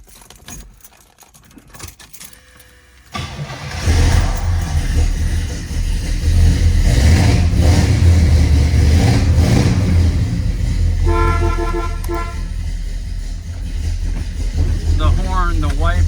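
A 1972 Oldsmobile Hurst with a 455 big block V8 cranks and catches, then idles and revs loudly and steadily, with keys jangling at the start and brief horn toots near the end.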